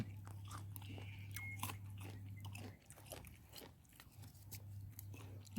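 A golden Nam Dok Mai mango, just starting to ripen, being bitten and chewed up close: soft bites and moist chewing over a low steady hum, no talk.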